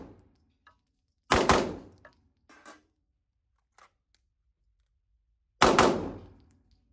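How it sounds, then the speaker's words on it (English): Two loud, sharp pistol shots from an Atlas Erebus, several seconds apart, each with a bright crack and a quick decaying tail, with faint clicks and handling noises between them. "if I just run 2 rounds out of it really quick"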